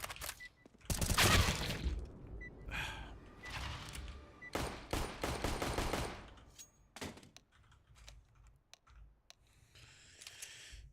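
Gunfire in the game Counter-Strike 2, with several sharp bursts and single shots in irregular clusters, some rapid and rattling, heard close and loud, with quieter clicks and game effects between the shots.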